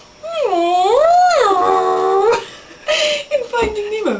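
A human voice imitates a whale call with long, sweeping, wavering moans that rise and fall, followed after a short gap by a second, choppier wail; loud and close, with no other sound.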